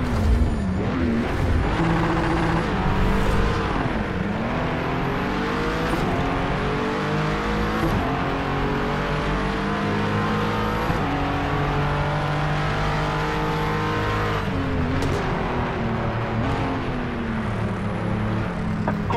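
A 2017 Acura NSX GT3 race car engine roars loud and close at a race start on Zhuhai International Circuit in Project CARS 3, pitch climbing and dropping through repeated gear shifts, with other cars audible around it.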